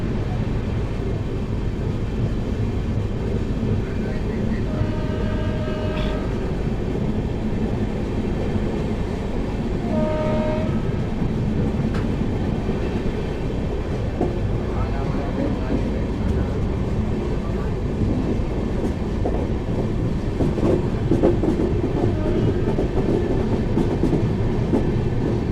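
A Samta Express passenger train slowing down, heard from inside the coach as a steady loud rumble with rail clatter and a few brief tonal squeals, under intermittent talk.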